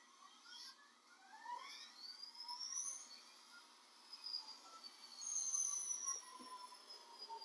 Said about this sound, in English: So here's that Bachmann GP40 CSX 6001 on the track.